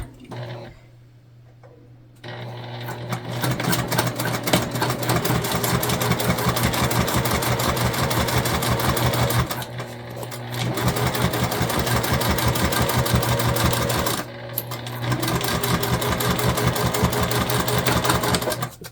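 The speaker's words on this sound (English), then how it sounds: "we're going to stitch these together at the seam allowance given in the pattern" A sewing machine stitches the seam on tote bag panels, running with a fast, steady mechanical chatter in long close bursts with brief pauses between runs.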